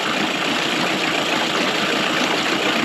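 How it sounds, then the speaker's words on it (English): An outboard boat motor idles steadily after a carburetor mixture screw adjustment, a continuous even drone with no talk over it. "Let the engine adapt to what we just changed to it."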